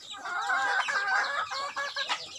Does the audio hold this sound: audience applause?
no